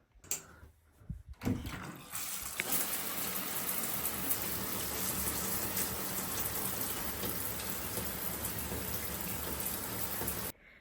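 A home shower runs steadily, a dense hiss of water spray that starts after a few seconds of quieter handling sounds and holds evenly, close and fairly loud, with no talking.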